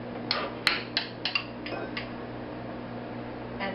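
A spoon clinks against an individual bowl while chocolate pudding is scooped in, with several light taps close by over a quiet background hum.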